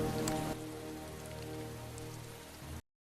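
Heavy rain pours steadily in a dramatic film fight scene, a dense continuous hiss of drops on surfaces, loud and close, with a brief sharper burst at the start and no voices.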